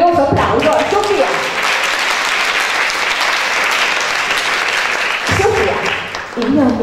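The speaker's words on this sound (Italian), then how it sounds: "facciamo un grandioso applauso a Sofia." Audience at a Casaleone event gives loud, sustained applause for a girl named Sofia, dense clapping in the middle with a voice speaking before and after it.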